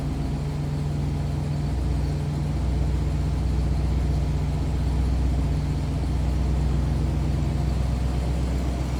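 The engine of a 1985 Oldsmobile Toronado, an early front-wheel-drive car, runs steadily at idle with a low, even hum and a faint mid-range drone, with no talking over it.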